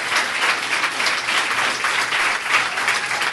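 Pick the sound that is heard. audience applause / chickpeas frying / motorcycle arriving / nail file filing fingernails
audience applause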